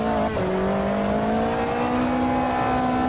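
Race car engine in the Automobilista 2 racing sim: a steady, droning high-revving whine that drops sharply in pitch after a brief dip, then climbs slowly under load, loud and continuous with no talking.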